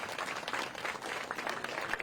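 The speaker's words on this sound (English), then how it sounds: "Another round of applause for Keegan and the Spinners." Applause for Keegan and the Spinners at a memorial bike ride, a steady, fairly faint wash of many hands clapping heard from a distance with no talk over it.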